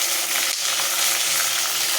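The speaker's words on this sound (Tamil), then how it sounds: "தக்காளி நல்லா வதங்கட்டும்" Tomatoes sizzle steadily in a hot pan, a continuous soft crackling hiss with no voices, while cooking a tamarind curry with elephant foot yam.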